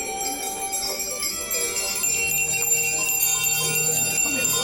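Several hand bells ring out together at a woodland ceremony, a dense, loud, sustained metallic chiming that continues throughout with a faint voice underneath.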